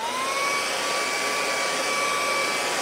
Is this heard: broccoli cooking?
no